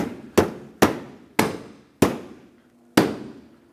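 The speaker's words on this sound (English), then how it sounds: "They're pretty stiff, so you have to give them a good hit" Stiff bumper cover clips on a 2009-2013 Honda Fit being struck into place: five sharp, loud impact thuds at irregular intervals, each ringing briefly before fading, with no talking.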